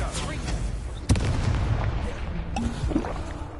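Incendio fire spell cast in Hogwarts Legacy, a sudden fiery burst and boom over rumbling battle noise, followed by another softer blast, with a voice calling out underneath.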